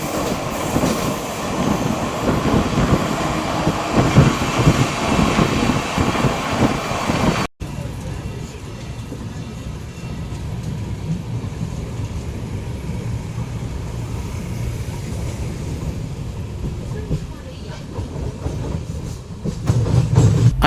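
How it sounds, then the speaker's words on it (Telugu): Amrit Bharat train on its first commercial run rolling along the rails through Ernakulam town, a steady dense rumble of wheels and carriage noise throughout, with a brief cut partway and some faint voice in the mix. "ఊరు మధ్యలో ట్రైన్ వెళుతుంది"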